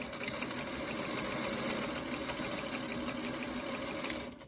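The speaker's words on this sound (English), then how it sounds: "I'm just going to sew one 4 patch using the 1/4 inch seam here." A sewing machine runs steadily while piecing a quilt four patch with a quarter-inch seam, its rapid needle chatter continuous and fairly faint before stopping abruptly at the end.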